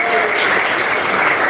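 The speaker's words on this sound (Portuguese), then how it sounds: "Palmas, se agradece a Jesus" A church congregation claps in praise during a sermon, a dense, steady wash of many hands, loud and close, holding evenly without a break.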